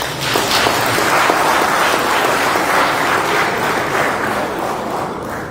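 Applause from a conference audience for a resource person at a Nigerian combat service event: steady, dense clapping from many hands that fills the room without a break and eases slightly toward the end, with no talking over it.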